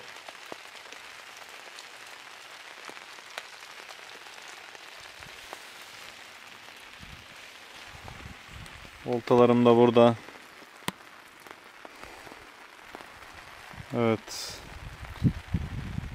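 Steady rain patters on a fishing tent shelter at a lakeside carp-fishing camp on Kosovo's Batlava Lake, someone talking over the soft wash with a few brief louder bursts of activity.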